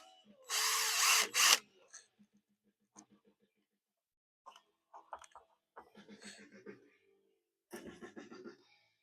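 Power drill driving two screws to fix a part of a two-container cyclone separator filter, a loud close whirring burst of about a second, followed by faint clicks and quiet talk.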